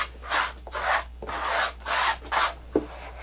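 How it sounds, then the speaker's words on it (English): Light, pressure-free hand sanding across a homemade wooden canvas panel, heard as about six short rasping strokes in a steady back-and-forth rhythm, close and fairly quiet with brief pauses between passes. "you can give it one more hit with your sander"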